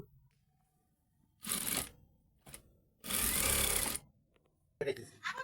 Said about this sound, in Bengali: এই পর্যায়ে আমরা মার্ক অনুযায়ী সেলাই দিয়ে দেব